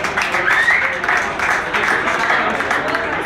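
Applause from an audience at an event, steady broadband clapping across the whole stretch with a voice faintly audible over it.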